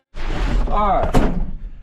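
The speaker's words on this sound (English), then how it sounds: "And now this iron door." A heavy iron door swings and slams shut with a single sharp, loud clank, partly mixed with a voice.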